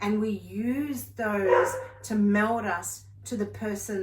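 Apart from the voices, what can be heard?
No everyday noise stands out behind the speech.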